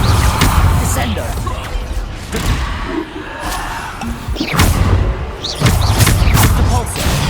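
Descendo spell slam in the video game Hogwarts Legacy: heavy, booming thuds strike amid a dense, noisy combat mix, with big impacts landing around the middle and again near the end.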